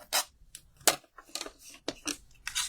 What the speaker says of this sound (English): Let's cut the other one anyway.